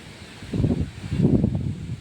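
Strong wind picks up ahead of forecast rain, with two gusty rushes of low, rumbling buffeting at close range rising over a quieter hiss.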